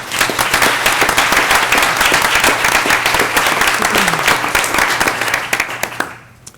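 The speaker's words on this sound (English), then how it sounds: "we can give them a nice warm round of applause for their work with us" Audience at a school board meeting gives a warm round of applause for retiring staff, dense continuous clapping that holds steady before quickly dying away at the end.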